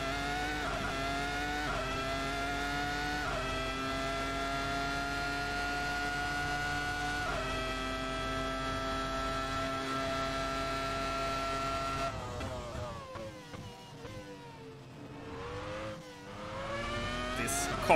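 Michael Schumacher's Ferrari Formula 1 car in the Assetto Corsa racing game at Monza screams through rising upshifts, then brakes and downshifts for a chicane, its engine loud and continuous throughout.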